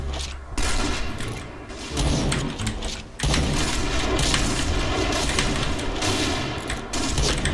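Rapid gunfire in the online shooter Point Blank crackles in loud, dense bursts almost without pause, broken by a couple of brief gaps, with no talking.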